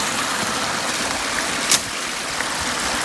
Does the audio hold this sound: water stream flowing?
yes